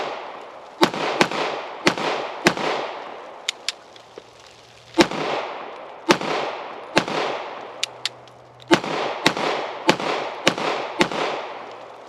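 FB Radom VIS-100 pistol fired at an outdoor range, a magazine's worth of sharp shots in irregular groups with echoing tails, some fainter shots from other shooters in between.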